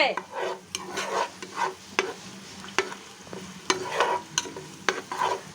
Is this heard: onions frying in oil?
yes